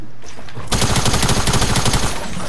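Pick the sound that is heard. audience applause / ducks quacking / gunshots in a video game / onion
gunshots in a video game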